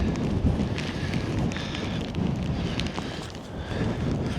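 Storm wind buffets a DJI Mic 2 clip-on microphone outdoors in rain, producing a constant loud rumbling roar with gusty surges and some patter of wet spray throughout.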